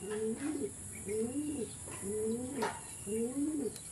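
A bird coos softly and repeatedly, four rolling, throaty coo phrases in an even rhythm, close by with faint background hiss.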